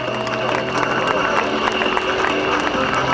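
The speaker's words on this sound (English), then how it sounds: "How about a nice round of applause for Skip Stewart?" Large outdoor airshow crowd clapping and cheering for stunt pilot Skip Stewart, a steady dense wash of applause with a loudspeaker voice mixed in.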